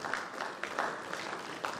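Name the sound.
audience applause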